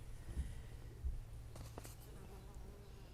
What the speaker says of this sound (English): There's a honeybee.